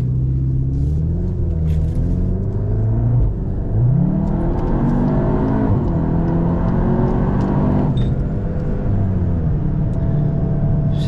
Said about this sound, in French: C'est bon, la pression du turbo elle a repris. Oh là là, ça arrache, hein.